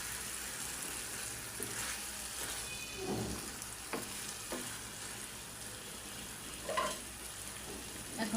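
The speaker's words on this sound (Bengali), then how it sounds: "রোস্ট একেবারে সুন্দর করে কষানো এসে গেছে" Chicken roast sizzles in a pan, frying steadily at close range, with scraping stir strokes now and then over the constant crackle.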